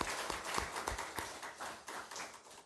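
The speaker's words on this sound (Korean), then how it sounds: "박수로 환영해 주시고 맞이해 주시기" A church congregation claps in welcome during a Sunday service, a short, fairly faint patter of hands with a few sharper claps standing out near the start.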